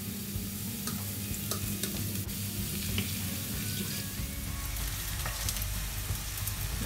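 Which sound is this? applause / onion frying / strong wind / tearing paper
onion frying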